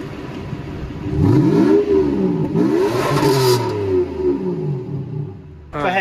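A 1997 Buick Century's exhaust rises and falls through several close, loud revs, the engine climbing and dropping in pitch in repeated swells without any talking.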